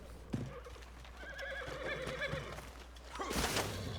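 A video game horse whinnies loudly with a rising, wavering cry, followed by a burst of noisy scuffling; steady low background hum throughout, no talking.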